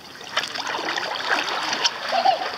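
Water splashes from paddling a boat on a lagoon at Reunion Island, close and irregular bursts of sloshing and spray, with people talking nearby.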